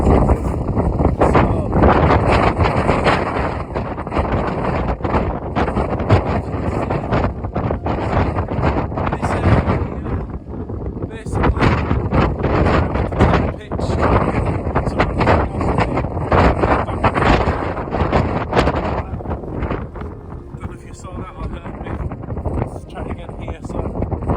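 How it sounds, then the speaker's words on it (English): Wind buffeting a microphone at a wild camping pitch in the Yorkshire Dales, loud irregular gusts roaring and rumbling almost throughout, with a few brief dips. "It was just the wind."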